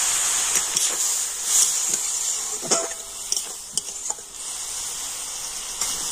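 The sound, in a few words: water added to tomato frying in oil, sizzling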